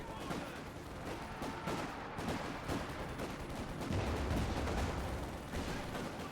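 Mortar fire in Company of Heroes 2, with dense overlapping battlefield blasts and gunfire rumbling steadily throughout, continuous and busy, under a commentator's voice.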